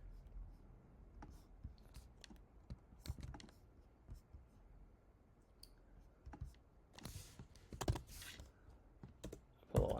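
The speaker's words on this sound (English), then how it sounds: "I'm just gonna type the name in." Irregular clicks of keys on a computer keyboard as a name is typed, close and fairly quiet, with a few louder bursts of taps toward the end.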